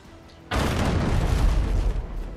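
Ship cannons fire in the naval combat game Abandon Ship, a sudden loud broadside that erupts after quiet and keeps rumbling as a dense, sustained barrage of booms and crackling impacts.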